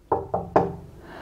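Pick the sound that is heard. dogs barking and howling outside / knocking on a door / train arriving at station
knocking on a door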